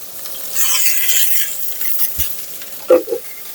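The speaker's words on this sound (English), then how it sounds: "And I need a spoon to stir them" A spoon stirs mushrooms and potatoes browning in a hot frying pan: a close scraping sizzle that swells early, then eases, with a couple of sharp spoon knocks near the end.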